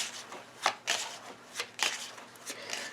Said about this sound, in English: Let me shuffle these for a moment